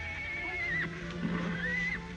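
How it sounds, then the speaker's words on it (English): A horse gives two shrill, wavering neighs, each rising and breaking off, heard fairly near over quiet background hiss. "It's Billy the Kid's horse"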